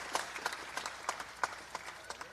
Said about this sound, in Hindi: मैं चाहता हूं ताली बजा के भी उनका स्वागत किया जाए कैलाश विजयवर्गीय जी